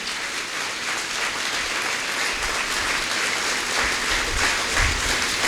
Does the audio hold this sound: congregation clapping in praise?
yes